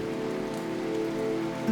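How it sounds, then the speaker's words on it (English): Heavy rain falls steadily on a college campus, a dense continuous hiss of drops close by with no pauses and no voices. "heavy rain fell on the campus"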